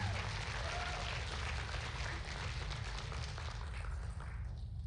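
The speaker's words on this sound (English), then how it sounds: "One more round of applause to these 5 young ladies." Audience applause at a USA Powerlifting national meet, a distant, diffuse patter of clapping spread through a large hall over a heavy low rumble of venue noise.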